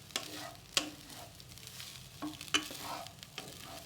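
Meal maker fried rice with salt and masalas being stirred in a pan, a spatula scraping and clinking a few times over a quiet, steady sizzle, close by with no talking.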